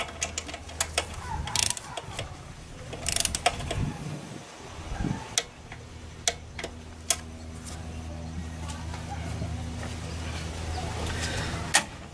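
Ratchet or torque wrench tightening valve cover bolts during a gasket replacement, heard as a series of sharp clicks and short mechanical bursts of varying loudness over a low engine-bay hum, with brief talk in places.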